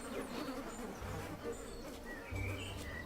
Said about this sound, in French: Les moustiques.